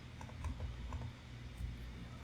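Keys tapped on a computer keyboard during Blender shader work, a few quiet, soft clicks scattered irregularly over low room hum.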